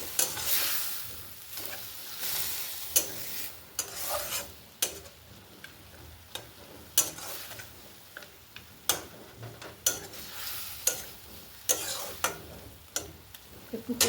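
Boiled drumstick leaves with coconut, mustard, poppy seed and green chilli paste plus lentil dumplings sautéing in a pan, a steady sizzle punctuated by regular sharp spatula scrapes and taps against the pan, close up, no speech.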